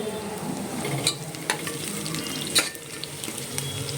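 Onion sizzles in a pan for mutton masala, a soft steady frying hiss broken by a few sharp stirring scrapes.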